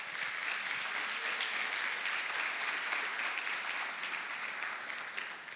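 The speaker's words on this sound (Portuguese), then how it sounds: "pode aplaudir." A church congregation claps together during a service, a dense, steady wash of applause that holds at an even level for several seconds before easing slightly at the end.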